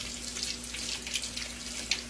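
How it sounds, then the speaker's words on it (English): Kitchen tap water runs steadily into a sink to wash ears of corn, a soft, continuous splashing hiss heard close and fairly quiet. "I run me some water like this"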